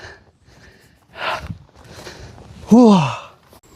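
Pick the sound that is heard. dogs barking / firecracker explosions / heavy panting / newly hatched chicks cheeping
heavy panting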